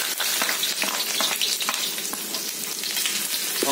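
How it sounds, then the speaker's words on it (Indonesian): Garlic sautés in a hot pan with a loud, steady, crackling sizzle, close and constant, with light stirring taps throughout. "Pertama kita akan tumis ini dulu, bawang putih"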